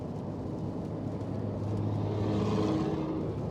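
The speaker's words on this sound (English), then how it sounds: "yeah, you have a really loud car." A loud car engine drones steadily on a road, a continuous low rumble that swells slightly in the middle as if passing close by, with no talking over it.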